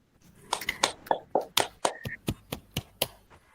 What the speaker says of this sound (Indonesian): Tepuk tangan dulu untuk Mas Imam